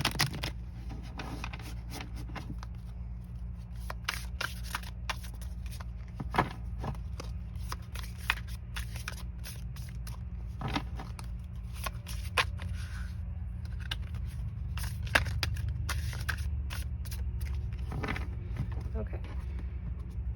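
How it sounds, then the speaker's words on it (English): A tarot card deck is shuffled by hand in soft, repeated riffles and taps, close and quiet beneath a steady room hum. "I'm just gonna shuffle the tarot"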